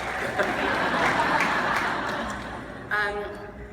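An audience applauds and chatters, a broad sustained clatter of clapping with murmuring and light laughter underneath, and a voice briefly cutting in near the end.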